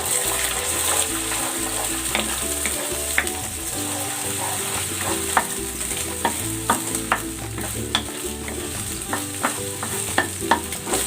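Two eggs frying in a pan, a dense continuous sizzle with sharp crackles and spatters popping at irregular intervals, close and loud, with no voices.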